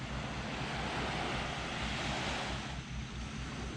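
Waves wash steadily onto a small beach backed by forest on Yaksando island, a loud, continuous surf roar mixed with wind buffeting the microphone.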